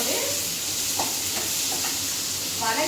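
Onions sauté in a pan with a steady sizzle and hiss that runs the whole time, and a few scrapes of stirring show through. No one speaks.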